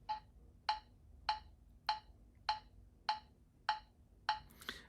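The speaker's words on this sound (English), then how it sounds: "Okay, so the metronome sounds like this." A metronome ticks steadily at 100 beats per minute, eight sharp, evenly spaced clicks sounding alone against near silence, each a crisp woody tick with a brief decay.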